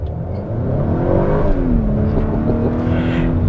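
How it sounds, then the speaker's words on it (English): A 2021 Honda Accord Sport 2.0T with traction control off accelerates at full throttle, its engine note climbing and then holding a loud, steady drone close by, alone without talk. "The traction is off. I'm gonna floor it."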